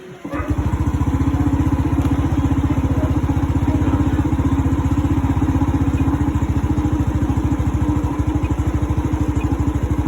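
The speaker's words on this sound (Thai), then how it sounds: "สตาร์ทเครื่องดูครับ" A motorcycle with PGM-FI fuel injection starts up and settles into a close, loud idle, its steady rapid thumping pulses running evenly throughout.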